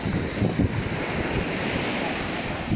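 Waves rolling in on a Phuket beach at high tide, a continuous close surf wash with gusting wind buffeting the microphone and a few heavier thumps as water breaks.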